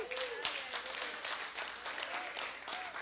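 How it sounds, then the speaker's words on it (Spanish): A church congregation applauds the Lord during a Spanish-language live service, steady dense clapping that carries through the whole stretch at moderate, somewhat distant level. "¿Damos un aplauso al Señor?"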